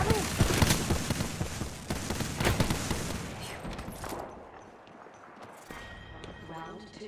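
Rapid bursts of gunfire crack in Apex Legends, several dense volleys in the first few seconds that then fade into quieter game sounds, with a voice talking over them.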